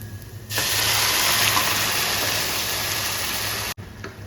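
Watery squid juices are poured from a vessel into masala in a cooking pan, making a steady rushing, hissing splash for about three seconds before stopping abruptly.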